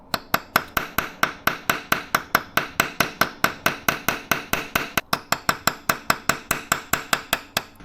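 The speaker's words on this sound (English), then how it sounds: "I just tried to hammer it and it's totally rotating." A hammer pounding a stuck bolt on a bicycle: rapid, steady, close metallic blows, several per second, loud and unbroken, with no talking.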